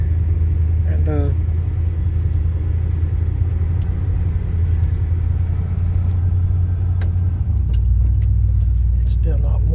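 A 1978 or 1984 Chevy C10 pickup idles in neutral before warming up, a loud, close, low rumble running throughout with a slight drop in pitch near the end and brief faint noises on top.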